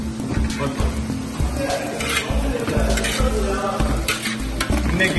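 Onions frying with salt in a pan for a big batch of Jeddah-style biryani produce a loud, close sizzle with repeated stirring scrapes and clinks of the utensil against the pan, and faint voices in the background.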